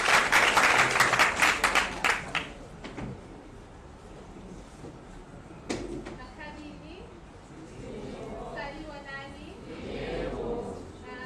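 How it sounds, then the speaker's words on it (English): A short burst of audience applause at a national youth gathering lasts about two seconds, then fades under someone speaking to the crowd. "Let's give a round of applause to Daddy So."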